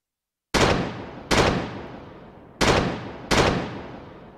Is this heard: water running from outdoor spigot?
no